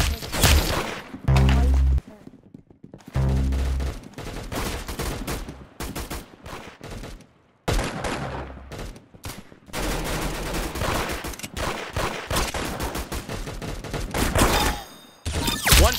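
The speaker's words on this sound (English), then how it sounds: "That's some beautiful shooting right there." Gunfire in the Roblox shooter Arsenal: loud rapid bursts and volleys of shots fill the stretch, with brief silent gaps between flurries.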